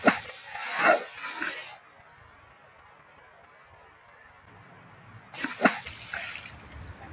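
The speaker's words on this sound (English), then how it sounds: "Here he goes. Quite a splash, though." A released fish splashes in the water on a Trinidad fishing trip: loud, close splashing and sloshing bursts at the start, a near-silent gap, then another run of splashes at the end.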